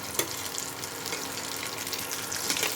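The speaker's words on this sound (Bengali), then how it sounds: "এই যে এইভাবে ভাজতে হবে লাল লাল করে।" Battered eggplant pakoras fry in hot oil, a dense, steady crackling sizzle close by with a brief utensil tap near the start.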